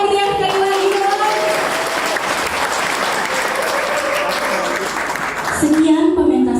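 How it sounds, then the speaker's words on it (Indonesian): An audience bursts into loud, sustained clapping after a dance drama about Shiva by the Youth and Balvikas SSG Mahendradatta group, with voices over it and tonal music briefly at the start and end. "Kasih tepuk tangan yang meriah sekali lagi dong"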